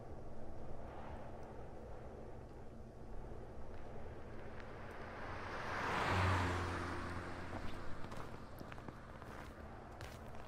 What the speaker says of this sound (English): Watch the car, man.